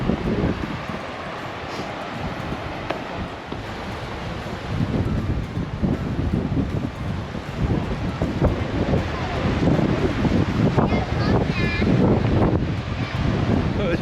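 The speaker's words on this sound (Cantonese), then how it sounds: "大風到。" Strong wind gusting through the Oboke-Koboke river gorge in Shikoku, buffeting the microphone with heavy roaring rumble that grows louder after the first few seconds, over the rush of river water.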